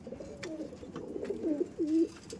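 Andhra pigeons in a loft coo softly at close range, a few low throaty burbling calls rising in the final second.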